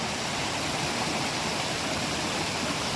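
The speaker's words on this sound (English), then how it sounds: "You hear the sound of this? And they say this is a hot spring." Hot spring water rushing steadily along the Wallibou River near La Soufrière, a dense, continuous broadband roar close by with no talk over it.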